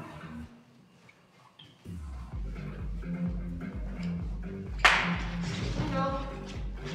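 Hand claps during a wrestling exercise session, a few sharp claps ringing in a room, with people talking throughout.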